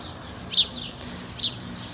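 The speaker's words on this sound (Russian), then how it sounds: "Слышите, как птички" Birds chirp outdoors on a warm, sunny morning, with two brief, clear tweets over quiet background ambience.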